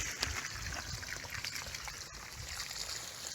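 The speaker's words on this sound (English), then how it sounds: "when I let go of this water, it's going to start pushing all this rock and debris" Hose water trickles and splashes faintly over rock and debris in a continuous, quiet babble, heard close by with no one talking.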